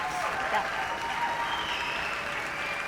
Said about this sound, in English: Clapping wouldn't sound like that when they've all been in the pool.